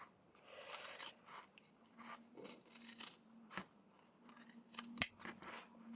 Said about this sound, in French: Je finis de couper, hein, je finis de couper le tour.